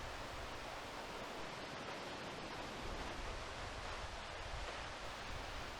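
The 178-foot Double Falls at a state park roars as a dense, steady wash of falling water, constant and enveloping with no breaks, heard from close by.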